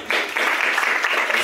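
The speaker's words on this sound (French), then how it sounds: "je voudrais qu'on applaudisse les producteurs ivoiriens quelques minutes" An audience at a television industry event in Abidjan bursts into dense, steady applause honoring Ivorian producers, loud and continuous through the whole moment.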